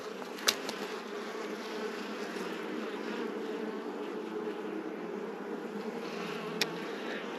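Honey bees buzz in a steady, dense drone around an open beehive during an inspection, close and continuous, with a couple of brief clicks from handling.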